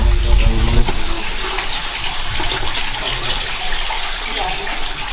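Steady rushing water fills an echoing underground military tunnel of the Międzyrzecz Fortified Region, continuous and loud, with faint voices underneath.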